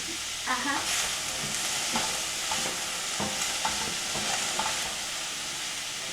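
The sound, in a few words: water boiling in a pot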